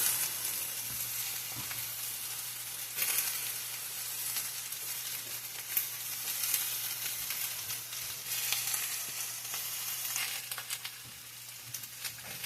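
Sausages fry and brown in a pan with a steady, dense sizzle and crackle, occasional louder spits rising briefly, with no voices over it.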